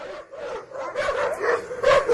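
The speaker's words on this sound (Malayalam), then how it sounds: "ഈ നായ്ക്കളെ കൊണ്ട് തോറ്റല്ലോ." Several dogs bark in short, repeated yips and bow-wows, moderately close and fairly loud, with a few whimpering tones between the barks.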